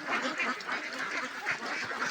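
A flock of farm ducks eating paddy, quacking repeatedly in overlapping bursts at moderate distance, a busy chattering chorus with no talk.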